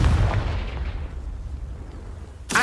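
Confringo fire blast spell cast in Hogwarts Legacy: a loud explosive boom at the start that rumbles and fades over two seconds, then a second sharp blast right at the end.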